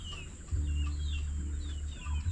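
Chickens cluck and chirp softly in the background over a steady low mechanical hum.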